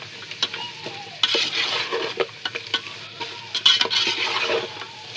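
Meat with spices frying in a pot while being stirred, a low sizzle under frequent metallic scrapes and clinks of the spoon against the pan, close and moderately loud, with no voices.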